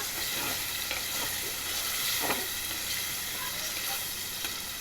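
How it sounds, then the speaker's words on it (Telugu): Masala sizzles and crackles steadily in a hot pan while being stirred for mutton soup, with a few scrapes from the spoon over a continuous frying hiss. "ఇదిగోండి ఇలా కలయి పెట్టుకుంటూ వేయించుకోవాలి"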